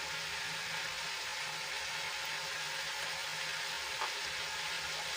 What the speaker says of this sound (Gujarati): બધું મસાલા સરસ રીતે મિક્સ કરી લઈશું